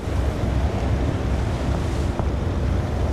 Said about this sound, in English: sounds like the wind's picking up a bit